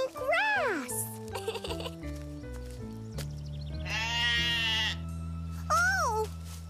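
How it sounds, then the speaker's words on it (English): Sheep bleat close by on a farm visit, two loud wavering cries with a longer one between, over a steady cartoon music bed while someone speaks excitedly. "Sheep? Wow, Grandma! Sheep!"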